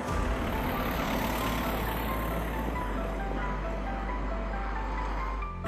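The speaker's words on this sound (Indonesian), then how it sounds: "Truk-truk raksasa mulai berdatangan" Heavy rumbling of large mining trucks at a coal mining site on Sebuku island, a loud continuous low engine drone with broadband road noise, steady throughout with no speech.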